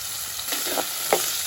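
Pumpkin pieces sautéing in hot coconut oil in a pan give a steady, close hiss of frying, with a few soft stirring scrapes and no talk.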